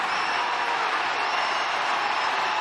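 A baseball stadium crowd in an Astros versus Guardians game rises into a loud, sustained roar, a broad continuous wall of cheering voices with no break.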